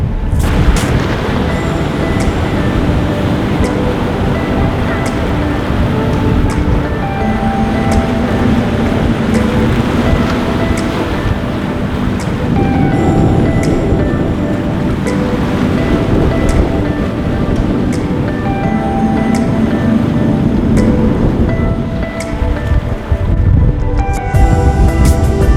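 Heavy surf pounds the shore during Hurricane Douglas, a continuous loud roar of breaking waves with deep rumbling booms, close and constant throughout with no voices.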